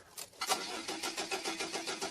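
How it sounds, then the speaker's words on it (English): A Volvo 740 diesel engine cranks repeatedly without catching on an empty fuel tank, a steady rhythmic starter churn heard up close with no talking. "Can't start the engine. No fuel."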